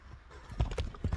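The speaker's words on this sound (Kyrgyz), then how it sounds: "дагы бир жылоолоп койчу." A horse ambling produces a few soft, close hoof clip-clops in an uneven rhythm, fairly quiet against low background noise.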